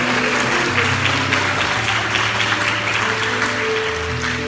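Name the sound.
congregation applause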